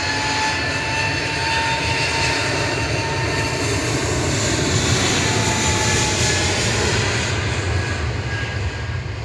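EasyJet jet airliner on departure from Manchester Airport bound for the Isle of Man, a steady, loud broadband jet engine roar with a continuous rushing drone and no talking.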